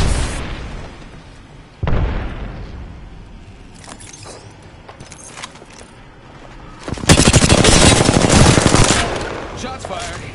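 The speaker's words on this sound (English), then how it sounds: "Shots fired, and they're hitting me." Heavy automatic gunfire and explosive bursts from the video game Apex Legends, a sharp blast early on and then a long, loud sustained volley of rapid shots, close and dominant.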